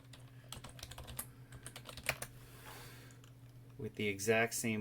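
Computer keyboard keys clatter in quick irregular bursts at close range, with a steady electronic hum underneath and a short burst of voice near the end.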